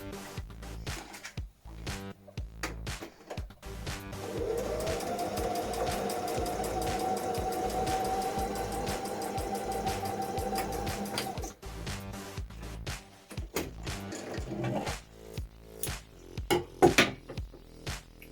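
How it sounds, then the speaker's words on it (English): A sewing machine runs a test line of stitches through a fabric scrap to check thread tension for a circle skirt, whirring steadily and close for several seconds, with handling clicks and rustles before and after. "we're just going to run it through the machine to check that the tension's working right"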